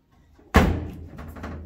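The door of a Volkswagen Beetle with a misaligned frame shuts in one sharp, loud slam close by, followed by a short rattling resonance of the car body.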